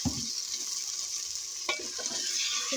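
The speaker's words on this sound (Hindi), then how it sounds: "चिकन मैं करूंगी फ्राई।" Chicken pieces fry with onions in hot oil, a steady close sizzle carrying through, with a sharp scrape of a spoon stirring the pan partway in.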